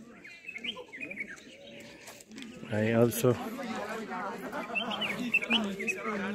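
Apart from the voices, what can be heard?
birds chirping outdoors on a walk in Kodaikanal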